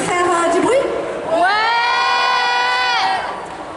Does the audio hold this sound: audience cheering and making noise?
yes